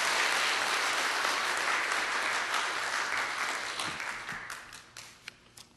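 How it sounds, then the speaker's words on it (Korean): A church congregation claps in welcome for the pastor, a dense burst of applause that starts loud and steadily fades away to a few scattered claps. "박수로 목사님을 우리 맞이하겠습니다"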